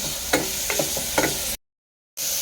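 Onions sauté in a pan with a constant close sizzle, and stirring scrapes click through it several times before the sound cuts to a brief silence and then returns.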